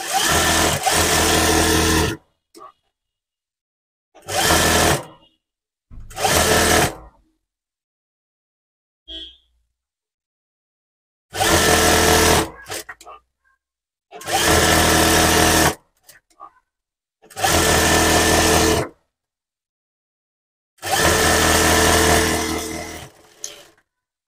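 A sewing machine stitches lining onto a sleeveless blouse in loud, close bursts of rapid whirring, seven runs of one to three seconds separated by silent pauses.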